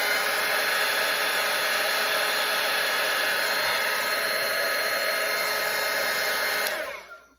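Hair dryer blows a loud, steady, close rush of air over a watercolour painting of a vintage Christmas truck, holding constant before being switched off and winding down at the end.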